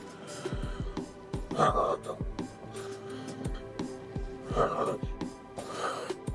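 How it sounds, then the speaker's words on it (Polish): Someone walking breathes audibly close to the microphone, with repeated rhythmic inhales and exhales in a quiet indoor setting, paced with the steps. "tutaj słyszymy przede wszystkim swój oddech"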